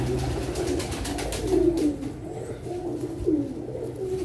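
Teddy pigeons coo softly a few times, low, throaty calls repeating over a murmur of background noise.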